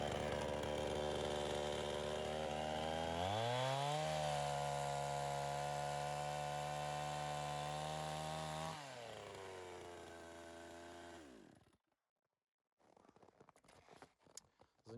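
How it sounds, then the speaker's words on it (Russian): Petrol chainsaw cutting dry firewood in a forest, close and loud: a steady high engine whine that bogs lower while biting through the wood, then revs back up and winds down to idle and stops, leaving faint ambient noise. "Бензопилу собрали. Заправили ее бензином, маслом."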